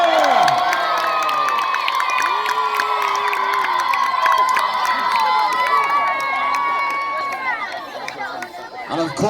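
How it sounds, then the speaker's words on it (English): A large crowd at a 1066 Battle of Hastings reenactment cheers and shouts for the King of England, a loud, sustained roar of many voices with whoops, steady throughout and easing slightly near the end. "Give him a cheer!"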